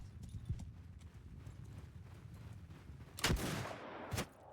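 Horse hooves gallop in a steady clip-clop rhythm during a Mount & Blade 2 Bannerlord battle with gun samurai, joined by loud gunshot cracks near the end.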